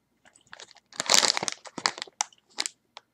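Pear-flavored Japanese gummy candies being chewed close up, a few soft squishy crunching bites in quick succession followed by quieter intermittent chewing.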